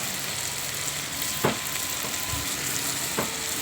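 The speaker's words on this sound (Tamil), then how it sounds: "கத்திரிக்காய் இதிலே போட்டு வதக்கினா கத்திரிக்காய் நல்லா வதங்கிடும்" Brinjal sautéing with tomato in a pan, a steady dense sizzle and hiss throughout with a couple of soft scraping stirs, close and even in loudness.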